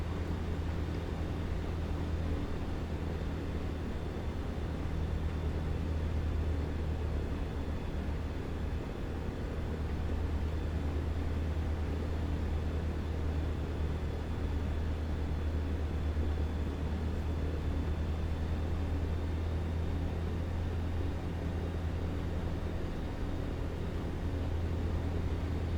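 A Flight Design CT light aircraft slows with flaps down for landing, its engine drone and airflow a steady low hum heard from inside the cabin, unchanging throughout.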